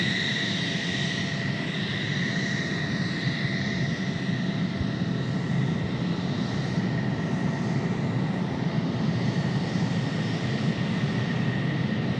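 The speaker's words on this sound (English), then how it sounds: "Yes, it is a King Air." A King Air turboprop at Tucson International Airport gives a steady, continuous engine drone with a faint whine on top, moderately distant and unbroken, with no voices.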